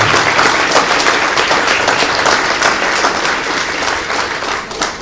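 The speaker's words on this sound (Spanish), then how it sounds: "Yo creo que se merece un aplauso al Señor, ¿no?" A church congregation at a revival retreat applauds, a dense, loud round of clapping that holds steady for about five seconds and eases slightly at the end.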